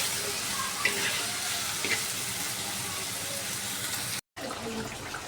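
Onions frying with a little salt in a pan for a prawn curry, a steady close sizzle that runs without pause and then briefly drops out near the end before resuming.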